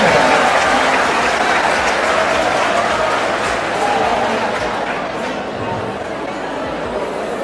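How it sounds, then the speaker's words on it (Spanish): Loud crowd applause for a participant at a religious debate gathering, full clapping that slowly thins and softens, with some murmured chatter mixed in. "Un aplauso para el hermano."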